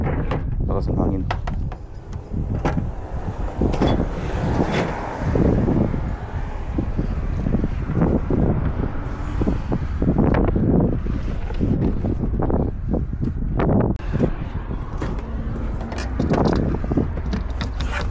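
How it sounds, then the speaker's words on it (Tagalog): Strong wind buffets the microphone outdoors at Taupō, with loud continuous rumbling gusts and crackling bursts, while people talk over it. "Lakas ng hangin."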